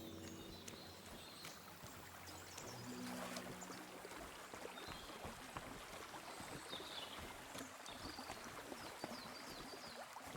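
Brook water flows steadily in Kingdom Come Deliverance 2, a continuous rushing wash with faint birdsong over it, with no talk.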